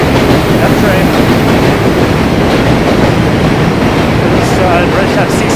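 A New York F train rumbles steadily as it crosses a bridge, a continuous loud roar and rattle that lasts throughout, with faint background voices.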